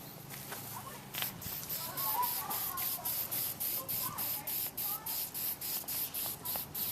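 Hammered-finish spray paint going onto a wooden hatchet prop in thin coats: a dozen short, even hissing bursts in a steady rhythm, close and fairly loud, with no talking.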